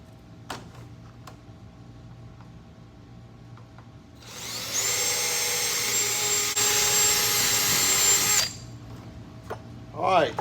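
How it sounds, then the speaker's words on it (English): An electric drill bores holes for a NACA duct on a race car, whining loudly and steadily for about four seconds after a few quiet clicks, then cutting off. "there's all of our holes drilled now"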